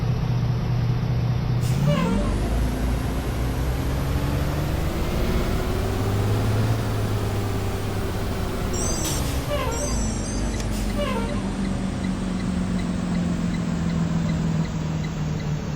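A Thomas Saf-T-Liner C2 school bus drives in the Rigs of Rods driving simulator, its engine droning steadily and rising in pitch as it accelerates, with a brief air brake hiss and a few short chimes midway.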